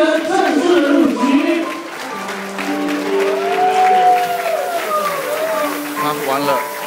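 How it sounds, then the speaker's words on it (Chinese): Guests at a wedding banquet applauding the newlyweds as they take their seats, a crowd's clapping filling the room while music and voices carry over it. "现在让我们想请您最热烈的掌声来欢迎我们今晚的这对新人正式的入席"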